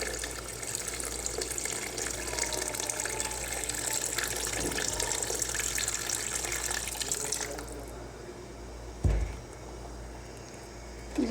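Steady rush of water pouring into a cooking pot of chicken and potato curry for several seconds, then stopping abruptly, followed by a brief clunk and quiet background.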